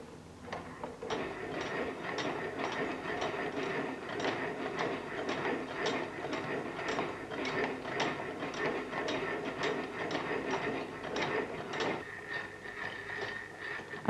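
A Bryan Donkin geometric lathe runs its gear mechanism, giving a steady, quiet rhythmic clicking and ratcheting of meshing gear wheels, evenly paced and close, with no voices.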